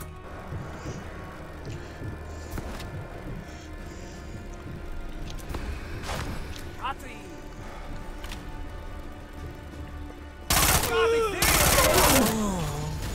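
Machine pistol fire in a shooter game: scattered shots and mechanical clicks under talk, then a loud rapid burst near the end.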